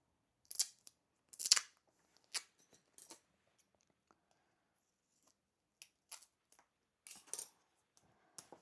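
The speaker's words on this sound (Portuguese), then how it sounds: "Essa tesoura aqui eu achei que ela fosse tá bom, mas ela também tá cega" Dull scissors snipping through paper while a medieval hennin princess hat is being made, several short crisp cuts in uneven bursts with quiet pauses between, close and fairly soft, no talking.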